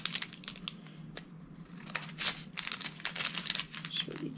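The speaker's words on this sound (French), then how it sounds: "je vais commencer à découper quelques petits sacs." Small plastic bags of diamond painting drills being cut open and handled at close range, with repeated crinkling and crisp snipping bursts over a low steady hum, no talking.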